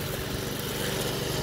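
Toro 53 SP self-propelled lawn mower with a dull blade, running loud and close with a steady, continuous engine roar.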